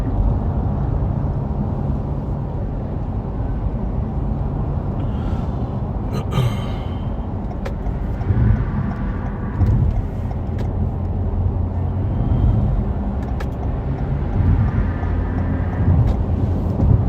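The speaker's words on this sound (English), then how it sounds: "DC, drive the car." Steady broadband road and engine noise rolls on inside a car driving through light morning traffic, with an occasional soft breath or rustle but no clear talk.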